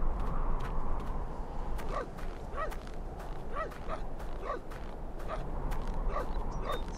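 A dog in the Syberia 2 video game gives a few short yips and barks at intervals over a steady, noisy background.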